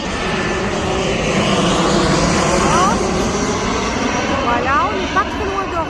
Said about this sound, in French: On entend les avions d'ailleurs.